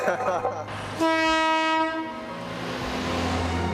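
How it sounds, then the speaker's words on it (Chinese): A train horn blares loudly and holds for a few seconds over the rumble of the moving Alishan Forest Railway train in the mountains of Taiwan. "各位旅客您好，欢迎搭乘阿里山森林小火车。"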